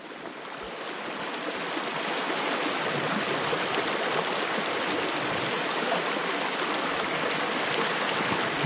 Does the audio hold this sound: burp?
no